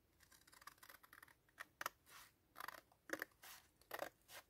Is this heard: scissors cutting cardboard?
yes